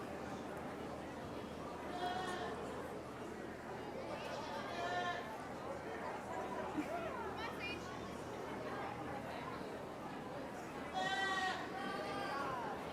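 Goats bleat in short wavering calls at a 2019 goat show, a few distinct cries rising over steady crowd chatter and people talking nearby.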